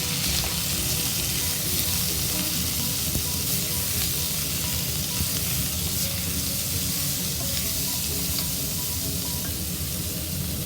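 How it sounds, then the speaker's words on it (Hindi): Two small chopped onions fry in leftover okra oil, making a loud, steady, close sizzle that holds unbroken throughout with no talking. "इसके बाद हमने 2 छोटे साइज की प्याज चॉप करके डाल देनी है।"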